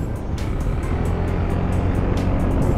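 A KYMCO Xciting 400 scooter engine pulls under throttle, a loud continuous drone with a steady rising note, heard up close with rushing wind and no talk.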